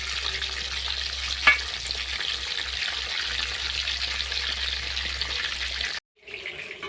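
Steady, close sizzling of a large fish deep frying in hot oil, a continuous crackling hiss with a brief clink, then a sudden cut and quieter sizzle.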